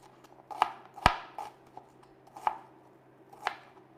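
Knife chopping onion into strips on a cutting board, five distinct crisp cuts at uneven spacing, one louder thunk near the start, quiet between strokes with no voices.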